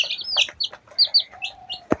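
Young chickens in a brooder under a light, a close run of short high cheeps and clucks in quick succession, with a brief sharp knock near the end.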